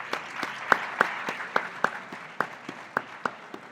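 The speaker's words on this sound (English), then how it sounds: "A round of applause for them too." Scattered audience applause at a stadium event in Ghana, a dozen or so distinct claps ringing out over a soft wash of clapping, moderately near and moderately loud.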